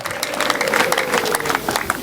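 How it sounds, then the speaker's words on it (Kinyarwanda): A church congregation claps and cheers together to welcome a guest minister, a dense, steady patter of many hands filling the space with a voice or two mixed in. "Dukomere Yesu amashyi"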